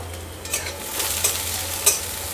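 Chopped green chili goes into a hot frying pan and is stirred, with a steady sizzle and a few sharp scrapes of a utensil against the pan.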